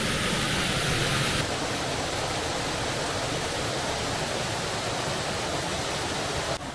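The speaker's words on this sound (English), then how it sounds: "I'm hoping that you can hear me over the sound of this water" Water rushing over a waterfall at an abandoned quarry makes a dense, loud, unbroken roar close to the listener, steady for the whole stretch with no speech.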